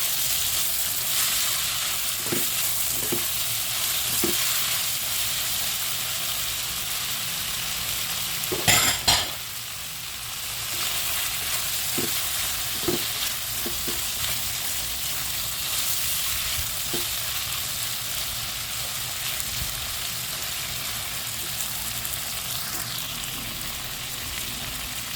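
Tomatoes sautéing in a pan for pakbet, a soft continuous sizzle with a few spoon taps and one brief burst of stirring near the middle, no talk.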